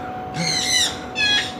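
Birds in an aviary at the Kuala Lumpur zoo give two loud, close calls, the first longer and the second shorter after a brief gap, with no voices.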